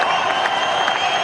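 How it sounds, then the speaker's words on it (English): Applause and cheering from a cricket crowd at a post-match presentation honouring India captain MS Dhoni after a 4-1 ODI series win over Sri Lanka, a steady dense wash of clapping with no pauses. "Big round of applause, ladies and gentlemen."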